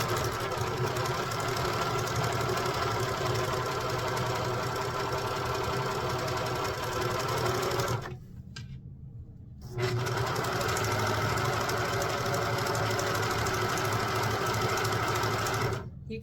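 A serger overlock machine stitches a rolled hem along a thin scarf, a loud, close, steady rapid whirring that stops for about two seconds midway and then resumes at the same pace.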